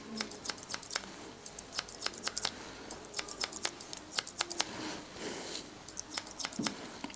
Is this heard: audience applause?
no